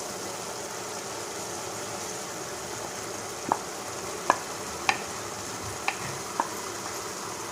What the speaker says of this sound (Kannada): ಇವೆಲ್ಲ ಹಾಕಿ ಚಲೋ ಹೊತ್ತಿಗೆ ಮಿಕ್ಸ್ ಮಾಡಬೇಕು